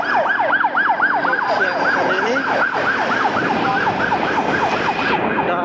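An ambulance siren wails on a city street, a loud, close, rapidly repeating up-down yelp sweeping throughout, with traffic rumble underneath and a brief voice over it.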